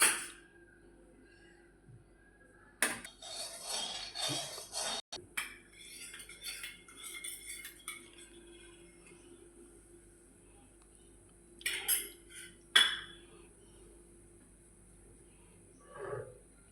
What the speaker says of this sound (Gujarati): હવે આપણે રાજગરાનો લોટ નાખી દઈશું અંદર